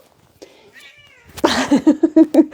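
A cat meows in a run of loud, insistent calls, preceded by softer sounds, close by.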